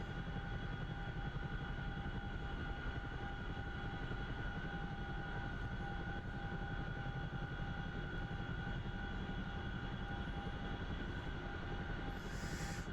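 A CH-47 Chinook tandem-rotor helicopter in the DCS flight simulator, a steady faint mechanical whine with sustained engine tones and a constant rumbling drone throughout.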